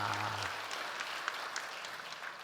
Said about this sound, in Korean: 수고해 주신 어르신들을 위해서 박수 한번 칠까요?